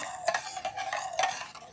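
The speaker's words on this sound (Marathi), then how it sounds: "ते पण छान मिक्स करून घेऊया." A spoon scrapes and clinks around a pot of colostrum milk pudding mixture with cardamom powder in a few uneven strokes, a soft stirring sound up close with no talking.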